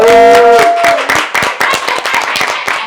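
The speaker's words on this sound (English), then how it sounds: "give a round of applause." Hand clapping at a World Cup 2022 viewing gathering, a burst of sharp claps after a sustained tone, loud and close, thinning into scattered individual claps over about three seconds.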